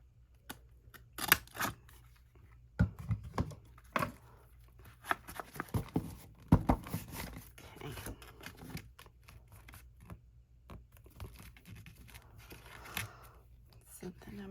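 Scissors snip through paper and cardboard while an accordion-spine book with pockets is assembled, the short cuts and rustles coming in scattered bursts close to the microphone, with a person talking intermittently over them.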